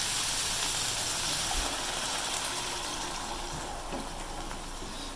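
Water hits a hot cooking pan of potato and capsicum curry with a steady, loud hissing sizzle that slowly softens toward the end.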